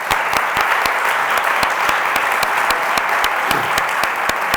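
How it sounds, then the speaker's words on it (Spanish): An audience at a book presentation applauds the publisher, thick sustained clapping from many people with a few sharper individual claps standing out, loud and continuous throughout. "pido un aplauso a Pedro Molino, por favor"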